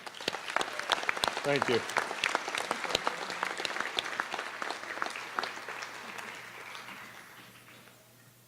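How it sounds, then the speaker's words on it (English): Applause from an audience at a school district board meeting, dense clapping filling most of the stretch and slowly tapering off toward the end, with a voice speaking briefly over it. "Let's give them a round of applause."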